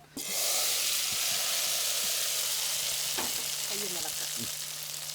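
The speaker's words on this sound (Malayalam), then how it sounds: "കടുക് താളിച്ച് ചെറുതായിട്ടൊന്ന് ഇളക്കുക" Mustard seeds tempered in hot oil for a Kerala curry, a loud, steady crackling sizzle that bursts in abruptly and hisses continuously, with a few stirring scrapes and brief pops on top.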